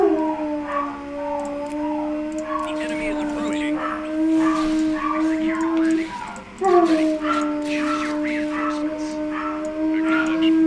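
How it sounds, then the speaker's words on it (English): Dogs howl together at a newly arrived neighbouring dog, two long, loud, wavering howls separated by a brief break, with game sounds and voices faintly underneath. "my neighbor's got a new dog, and my dogs really don't like it."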